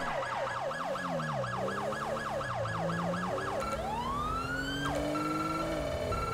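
A police car siren in a video game wails in a fast repeating yelp, close and loud, then switches to a slower rising tone over a steady engine drone.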